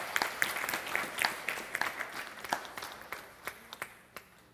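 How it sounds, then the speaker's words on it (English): Worshippers at a Sunday puja in a Toronto Hindu temple give a round of applause, scattered individual claps standing out from a thinning patter that gradually fades toward the end. "let's give a big round of applause also"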